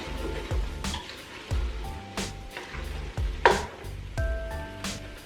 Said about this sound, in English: And we're gonna stir this around.